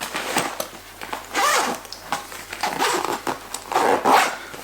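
Zipper on a URUAV UR7 Pro FPV backpack being handled: several close, raspy zips in short pulls of varying length, separated by brief rustles of fabric.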